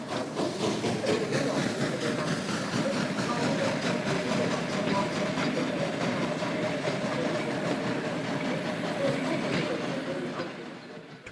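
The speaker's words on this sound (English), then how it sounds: "One of these tank engines departs with a passenger train." A steam tank locomotive pulls a passenger train away with a steady, heavy rumble and rhythmic clatter of wheels, fairly close, fading slightly at the end.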